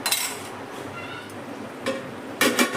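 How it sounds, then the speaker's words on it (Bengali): Chicken stir-fries in an onion paste gravy for a Bengali chicken and potato curry, giving a low sizzle with a few sharp clinks and scrapes of a utensil against the pot, close by and without speech. "এবার চিকেনটা আমি খুব ভালো করে কষিয়ে নিই"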